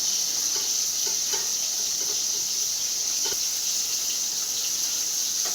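Bele fish frying in a pan in a home kitchen, a steady soft sizzle and hiss throughout with occasional faint pops and clicks, no voices.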